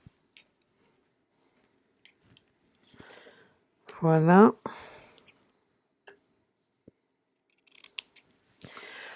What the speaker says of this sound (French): Bien sûr, d'avoir les ciseaux.